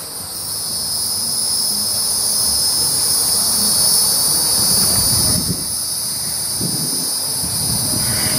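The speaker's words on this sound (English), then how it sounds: "Hear all the crickets and all the sounds of the bugs?" Dense, loud chorus of crickets and insects chirping continuously in the countryside at night, a steady high-pitched trill with low rumbling background noise beneath.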